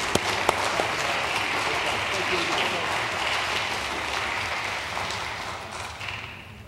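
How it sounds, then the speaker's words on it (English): A sustained round of applause fills a council meeting chamber, many hands clapping steadily for several seconds before tapering off near the end. "How about another round of applause for our championship fencing team?"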